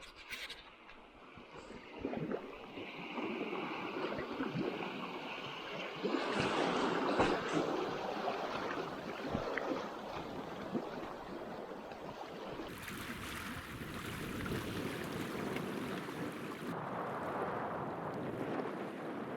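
River waves rush past during spring rafting on the Serebryanka, a continuous broad watery roar mixed with wind noise on the microphone, steady and moderately loud with no talk.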